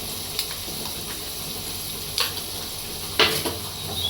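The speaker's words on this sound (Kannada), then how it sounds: "ಸ್ವಲ್ಪ ಫ್ರೈ ಮಾಡೋಣ ಅದ್ರ ಜೊತೆ ಸ್ವಲ್ಪ." Chicken liver and gizzard sizzle steadily in hot oil with ginger garlic paste, a continuous frying hiss with a few soft stirring scrapes and taps of the pan.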